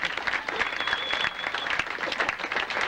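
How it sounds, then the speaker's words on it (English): Wedding guests at a 1995 reception applaud after the couple's first dance, a dense, steady burst of clapping filling a large room for a few seconds. "I think they deserve a round of applause for that."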